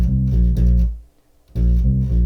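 Bass guitar playing a riff, low repeated notes with a triplet figure on the third beat, a brief gap in the middle before the line resumes, close and loud with no voices.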